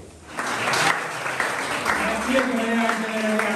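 Audience applause at an Italian evening concert in a castle fortress, a steady wash of clapping from a crowd that swells quickly and holds over a faint background of voices and tonal sound.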